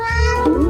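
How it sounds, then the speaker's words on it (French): A cat lets out a loud, close meow that bends in pitch, one drawn-out call. "Ah ouais, c'est un chat."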